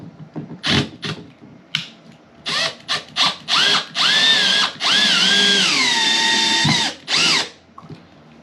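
Cordless power drill drives a screw into wood while fixing a loose staircase newel post: several short revving bursts, then longer whining runs that slow and bog down as the screw bites, loud and close with no talk.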